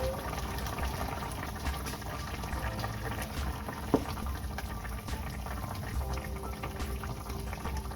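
Chicken caldereta, a Filipino stew, simmers in a pot with a steady low bubbling that stays even throughout, with one brief sharp tap partway through.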